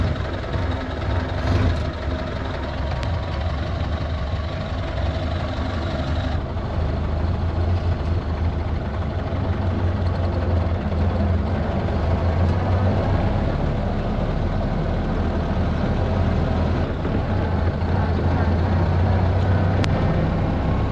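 A Model A Ford engine runs on a test drive, with a steady low rumble and drone heard from inside the car that holds unbroken at fairly loud level with no talking.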